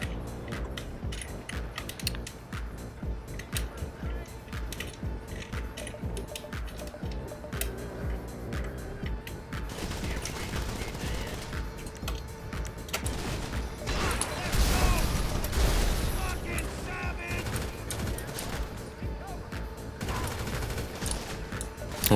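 Ongoing gunfire in GTA Online, with dense, crackling shots and bursts running throughout at moderate loudness amid game noise, swelling briefly in the middle.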